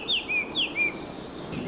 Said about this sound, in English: the Baltimore oriole that tootles its song